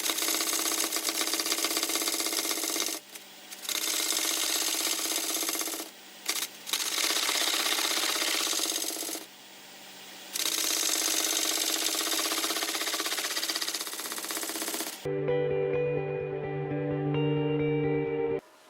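A wood lathe spins a Sauracker shell while a tool cuts a V groove, giving a bright, harsh scraping whine broken by short pauses, before the cutting stops and a quieter hum remains.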